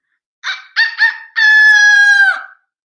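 A human voice imitates a rooster crowing, with a few short clipped syllables followed by one long drawn-out cock-a-doodle-doo note, loud and close with silence around it.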